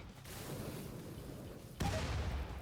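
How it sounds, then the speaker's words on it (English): A grenade going off in a RimWorld Fallout-style battle against an Assaultron robot, a sudden loud blast that cuts through steady background gunfire and rumble, then a roaring decay. "See if I can get a grenade right next to that Assaultron."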